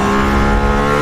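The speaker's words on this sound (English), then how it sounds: "It's got a Formula One engine, a 2015 Formula One power system." A Mercedes-AMG ONE hypercar runs its 2015 Formula One power unit, producing a loud, sustained, strongly tonal engine note at constant pitch throughout, with no talk.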